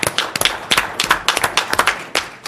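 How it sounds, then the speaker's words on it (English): Audience applause at a school board meeting: close, uneven hand claps come in dense bursts with a choppy rhythm, played alone without talk and fading slightly toward the end. "How about a round of applause for both of these fine committees and the staff for 2 just wonderful presentations."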